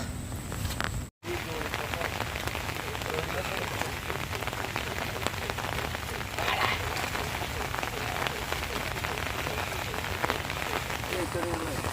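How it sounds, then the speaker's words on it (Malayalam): Heavy rain pours down steadily, a dense hiss of drops hitting surfaces, broken only by a brief silent gap near the start. "ഇപ്പൊ ഈ മഴ എന്തായാലും ഇനി തോരുന്നു നല്ല നല്ല ശക്തമായ മഴയുണ്ട്"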